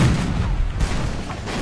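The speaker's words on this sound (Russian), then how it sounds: "мы успеем стрельнуть с этой пушки" Cannons fire in a naval battle in the Captain Blood video game, a dense, loud barrage of booming blasts and rumbling explosions filling the short stretch with no talk over it.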